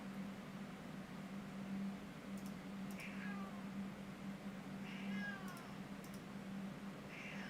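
A cat meows several times in game audio from Raid Shadow Legends, short rising and falling cries spaced apart over a steady low hum and faint background noise, no talking.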